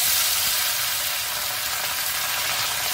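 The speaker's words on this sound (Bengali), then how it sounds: "এবার আমি মোরলা মাছগুলো ভেজে নেব।" Small morla fish frying in hot mustard oil, a dense, steady sizzle, loud and close, with no pauses or voices.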